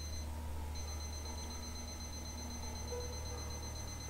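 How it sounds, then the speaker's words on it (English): In the video game Lullaby For an Electric Toaster, an alarm clock rings with a thin, steady electronic tone that continues faintly over a low hum for about four seconds, briefly dropping out near the start. "or stay and listen to this lovely alarm clock"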